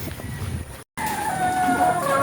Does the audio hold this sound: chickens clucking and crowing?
yes